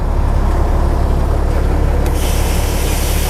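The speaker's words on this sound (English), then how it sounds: "You can hear the rush of air. The primer draws about 16 CFM." On a side-mount fire pumper, the primer draws air at the front intake in a loud, steady rush over the constant rumble of the running truck, with the hiss growing brighter partway through.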